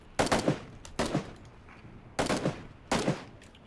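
Four loud gunshots in PUBG, each a sharp crack with a short rattling tail, fired alone at uneven intervals with brief quiet gaps between.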